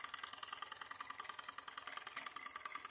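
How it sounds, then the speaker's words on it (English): A Bowman M140 live steam engine runs steadily on a low flame, giving a continuous, even mechanical chugging with a fine rapid rattle, close and alone with no voices. "That's a great little engine. Running on a really low flame right now."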